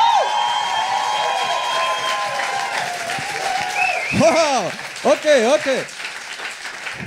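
Applause from the audience at a science slam, with clapping running under a speaker's voice and a few brief spoken words rising over it.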